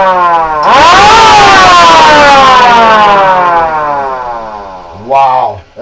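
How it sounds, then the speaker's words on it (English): Several sirens powered by a John Deere tractor battery wind up together into a loud, close, rising then slowly falling wail, with a second shorter wind-up near the end. "I got a request to put off all the sirens."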